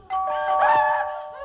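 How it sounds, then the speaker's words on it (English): A doorbell chimes once in the 1996 film Scream, a short bright two-tone ding-dong that rings out clearly and fades, heard alone. "He's ringing at the doorbells."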